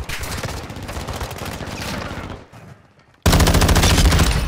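Rapid video-game gunfire in a competitive new game mode, dense bursts of shots crackling loud and close, a brief lull, then an even louder barrage erupting at the end.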